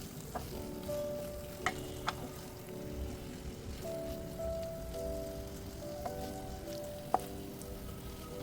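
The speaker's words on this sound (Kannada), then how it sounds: "ಇವಾಗ ಇದಕ್ಕೆ ಕಟ್ ಮಾಡಿ ಇಟ್ಕೊಂಡಿರುವ ಎಗ್ನ ಆ್ಯಡ್ ಮಾಡಿ ಮಿಕ್ಸ್ ಮಾಡ್ಕೊಳ್ತಾ ಇದ್ದೀನಿ." Chopped boiled eggs being stirred into sizzling egg masala in a frying pan, with a steady close-up fry and occasional sharp spoon clicks against the pan.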